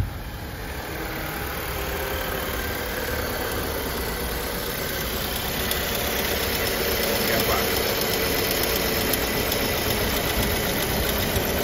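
An Audi A4 engine idles rough under the hood, a steady low mechanical drone with faint irregular knocking and vibration, close and continuous.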